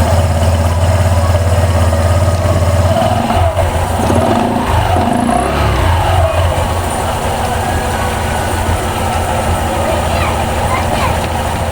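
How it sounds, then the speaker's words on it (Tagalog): A Honda Click 125i scooter engine runs at a steady, close idle after a CVT cleaning, a continuous low hum with a voice talking over part of it. "So ite-turn on natin yung engine."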